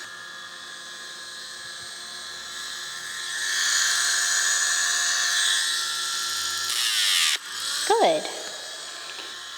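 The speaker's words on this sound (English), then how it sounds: "we'll end there with the Dremel" Dremel rotary tool grinding a dog's nails, a steady high whine running for several seconds before cutting off, followed by brief talk.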